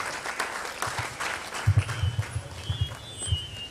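An audience at a professional managers' summit applauds the President, with scattered clapping that firms into uneven bursts, mixed with some low thumping and a faint voice in the background.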